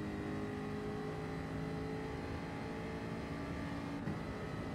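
Race car engine from a racing video game holds a steady, loud drone with a high whine throughout, no clear rev changes, and a brief bump near the end.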